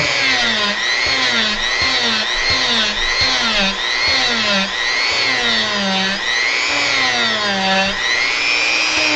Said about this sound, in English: you have to keep hearing this Dremel going every single video